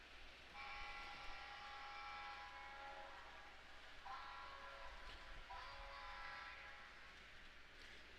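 An SD45 locomotive horn sounds on a model train layout, giving a faint multi-tone chord blown in two or three sustained blasts with short breaks, over a low background rumble.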